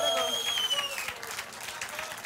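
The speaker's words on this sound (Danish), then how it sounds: "Bliv ved med at klappe." Studio audience on a Danish late-morning TV show clapping steadily, a dense sustained applause of many hands throughout, with bright tonal ringing sounds overlaid early on.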